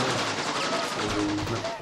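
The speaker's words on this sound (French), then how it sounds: "On entend les coups de feu, hein." Gunfire in a video game, likely Counter-Strike, rapid repeated shots in a fast rhythmic burst, fairly loud, with a voice talking underneath.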